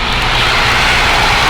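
A light aircraft engine runs up at 1800 rpm on a snowy grass airfield, a loud, steady propeller drone close by with no letup.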